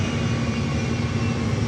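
Airliner engines hold a steady, loud, continuous roar as the plane turns on the runway at Fort Lauderdale-Hollywood airport, with no voices.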